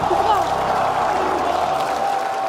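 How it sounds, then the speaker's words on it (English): Crowd at a Paris esports championship applauding and cheering player Hydra, a dense continuous wash of clapping with scattered whoops, loud and sustained throughout. "Continuez d'applaudir Hydra"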